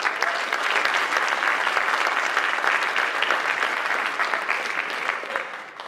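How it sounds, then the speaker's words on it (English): A sports awards audience applauds the parents with sustained, even clapping from a sizable crowd that holds strong for several seconds and tapers slightly at the end. "So let's give the parents a round of applause."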